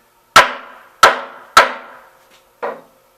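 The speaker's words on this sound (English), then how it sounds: "I'm just going to try to whack it with a hammer a little bit" A hammer whacking a heavy metal dolly to line it up, four sharp ringing strikes, the first three evenly spaced and the last slightly softer after a gap, close and loud in otherwise quiet surroundings.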